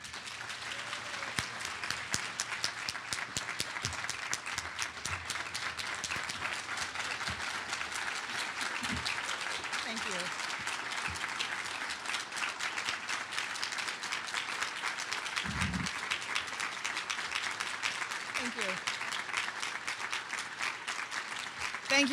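An audience at Tacoma's 2014 State of the City address applauds to welcome Mayor Marilyn Strickland, with steady, sustained clapping from a crowd that holds at an even level for over twenty seconds and sounds somewhat distant.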